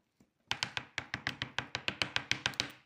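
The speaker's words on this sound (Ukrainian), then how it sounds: "Давайте я постукаю нашим мурахам" Rapid, evenly spaced taps on an ant farm enclosure, about a dozen crisp knocks in quick succession after one faint lead-in tap, close and fairly loud with no talking.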